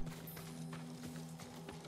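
Horse hooves clip-clop in an even rhythm in the video game Ghost of Tsushima, fairly quiet beneath a steady low hum of game ambience.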